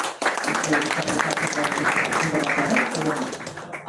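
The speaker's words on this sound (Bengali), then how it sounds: "আমরা সবাই তাদের জন্য একটা করতালি দিয়ে" Audience applause closes a public program about auto-rickshaws, with dense, steady clapping filling all four seconds at a fairly loud level and voices mixed in underneath.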